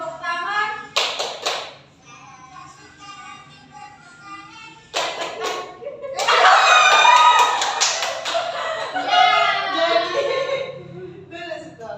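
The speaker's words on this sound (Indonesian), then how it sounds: "Kita tepuk tangan" Children in an Indonesian language class clap their hands in short rhythmic bursts, separated by stretches of talking and singing nearby.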